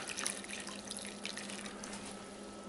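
Water pours steadily over beans in a slow cooker, a soft continuous splashing and trickling at low volume with no talk.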